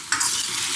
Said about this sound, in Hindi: अभी टमाटर और नमक डाल दे रही हूँ और उसको हल्का सा भून रही हूँ।